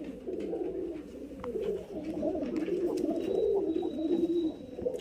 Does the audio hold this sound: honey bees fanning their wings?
no